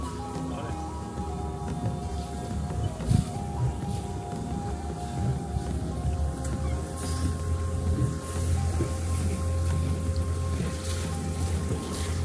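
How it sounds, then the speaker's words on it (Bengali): A boat passes through a lock on the River Thames, with a continuous low engine hum and water churning close by, steady throughout. People talk over it. "লকার ক্রস করতেছে বোটটা"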